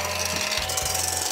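A power tool, likely an electric mixer, whips egg whites for pancake batter, giving a loud, steady whirring buzz that runs unbroken and close, with no voices.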